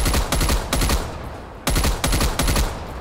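Bursts of rapid gunfire from a primary weapon in Call of Duty: Black Ops Cold War, loud clusters of shots with a noticeable gap mid-clip before another burst.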